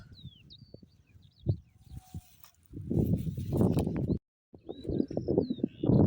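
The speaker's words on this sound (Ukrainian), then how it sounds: "Пташки виспівують і ніби чуєш звідки" Scattered high bird whistles and chirps on a village morning, some near the start and more at the end, over a loud rumbling, wind-like noise that swells through the middle.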